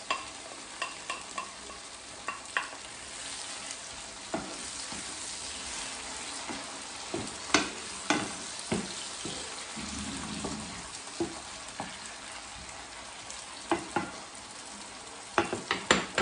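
Chives fry in a pan with a continuous low sizzle, punctuated by irregular spoon knocks and scrapes as they are stirred, close and fairly quiet with no talking.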